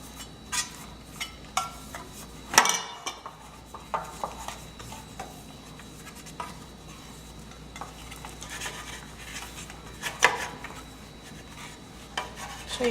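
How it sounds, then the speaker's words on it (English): Butter is rubbed around an 8-by-4-inch baking pan, giving soft scraping and rasping strokes with a few sharper clinks against the metal, close and fairly quiet. "I have about a 8-inch by 4-inch pan here. I'm going to grease it."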